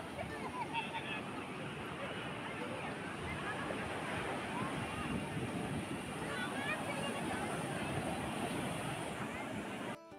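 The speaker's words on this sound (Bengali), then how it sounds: "সন্ধ্যের সময় সমুদ্রের এই ঢেউ আর তার গর্জনটা এত ভালো লাগছে কি বলবো" Evening sea waves roll and break at Puri beach in a continuous low roar, mixed with wind buffeting the microphone and a faint murmur of people nearby.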